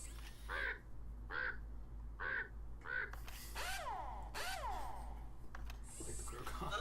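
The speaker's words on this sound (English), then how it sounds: "Like the crow call." Repeated cawing of a crow in a Jackbox party game: four evenly spaced, fairly clear caws followed by several louder, drawn-out calls over a steady low hum.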